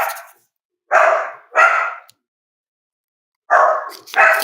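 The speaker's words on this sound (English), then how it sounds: "I don't know what the hell the dogs are barking at." Dogs bark in two short bursts, a pair of loud yaps near the start and another pair near the end, with silence between and no talk, heard indoors during a card pack opening.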